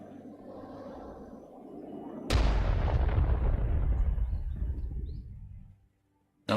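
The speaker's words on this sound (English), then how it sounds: "Right, missiles inbound." Missile strike explosions in the video game Broken Arrow hit with a sudden loud blast, then a long rolling rumble that fades over several seconds before a second impact begins at the very end.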